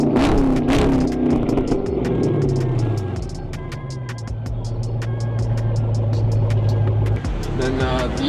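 A Chrysler 300 SRT8 engine revs loudly through a throaty cat-back Flowmaster exhaust, pitch rising and falling, up close, with people talking over it.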